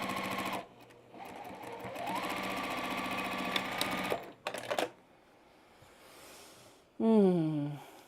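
A sewing machine back stitching a quilt block, close and steady: a stitching run that slows and stops, a short burst, then a higher whining buzz after a quiet gap.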